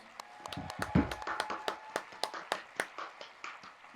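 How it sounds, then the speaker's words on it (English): A small audience claps for a contestant at a Schmoedown debate event, brief and faint, with a few sparse hand claps in an uneven rhythm at a modest distance. A short vocal sound comes near the start. "I think Rachel deserves one more round of applause"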